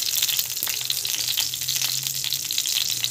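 Mustard seeds frying in hot cooking oil in a pan for a simple Indian home dish, giving a steady, close crackling sizzle throughout with no talk.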